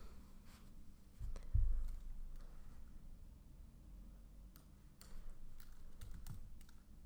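Someone types code on a computer keyboard in a quiet room, sparse soft key clicks and a few brief bursts of taps, close and faint.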